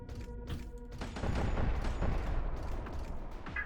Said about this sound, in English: It does sound so nice though when it explodes.